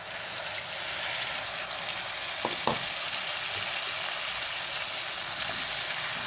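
Fried potatoes and bitter gourd being stirred with spices and tamarind pulp, a steady broadband sizzle with scraping stir sounds throughout, a couple of brief clinks midway.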